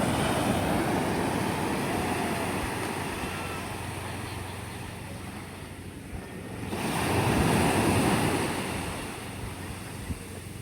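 Waves wash steadily onto a beach at low tide in Dingalan, Aurora, with a surge swelling louder midway and some wind rumbling against the microphone; no voices.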